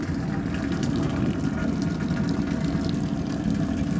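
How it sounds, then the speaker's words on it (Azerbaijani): Water boils inside a turbo boiler used to heat greenhouses, giving a steady, dense low rumble and bubbling hiss that holds at an even level without pause. "Artıq su qaynayır."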